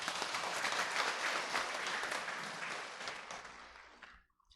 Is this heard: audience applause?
yes